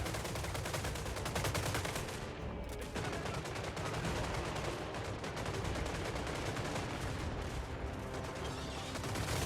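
Massed handgunner volleys in the Total War: Warhammer III battle game, a dense, continuous crackle of gunfire with heavy low rumble throughout, loud and unbroken with no clear gaps between shots.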